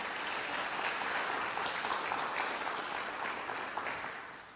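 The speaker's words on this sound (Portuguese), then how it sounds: "Vamos dar um aplauso a Jesus, amém?" Church congregation applauding together, a dense steady wash of clapping that holds strong throughout and tapers slightly at the end, with no talk over it.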